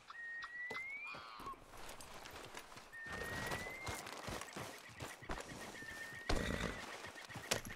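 Horse hooves clip-clopping steadily in Red Dead Redemption 2, an irregular run of sharp hoof strikes close by with a few whinnies and bird calls mixed in, plus game ambience and faint talk.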